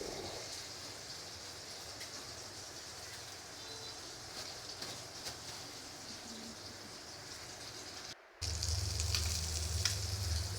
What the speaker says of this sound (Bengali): আর এদিক দিয়ে তো আমার মাছটাই তো ভাজা হয়ে গেছে, এক পিঠ আবার উল্টে দিলাম